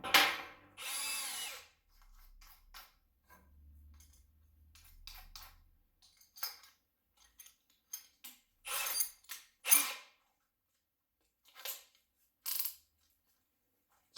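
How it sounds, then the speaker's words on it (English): Short bursts of a Parkside Performance 20V cordless drill whirring and boring into wood with a spade bit, stopping and starting, with quieter scraping and clunks between runs. "Next I will try with this spade drill bit"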